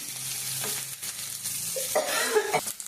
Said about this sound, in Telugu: ఫస్ట్ మిరపకాయలు కొద్దిగా ఉల్లిగడ్డలు కొద్దిగా వేడాలి